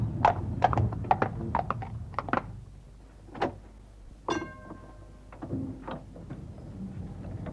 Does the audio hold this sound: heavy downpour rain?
no